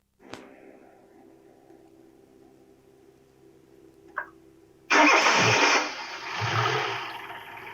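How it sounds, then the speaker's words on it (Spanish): After several seconds of low, steady hum and a single faint click, a car engine with a TCCS system cranks and bursts into a loud start with its vacuum sensor PIM terminal disconnected. It settles into a rough, roaring run close by. "el motor arrancó de todas maneras"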